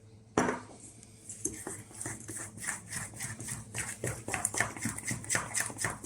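A spoon stirs a yeast mixture in a bowl to break up lumps, starting with a sharp knock and then making steady, rhythmic clinks and scrapes close by.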